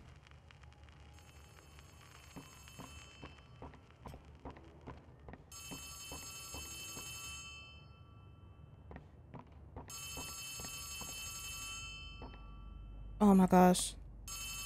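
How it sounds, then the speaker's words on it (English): In Poppy Playtime Chapter 3 a telephone rings in repeated bursts, faint and distant-sounding with long trilling stretches, while a person briefly speaks and there is a sudden loud thump near the end. "Y'all hear a phone?"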